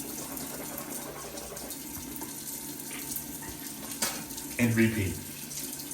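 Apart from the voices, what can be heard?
rinsing in the sink with running tap water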